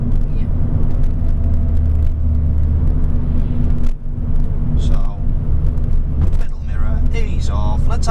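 A car engine hums steadily as it is driven through bends and straights and shifted from third to fourth gear during a driving lesson in Derby, a low continuous rumble beneath someone talking throughout.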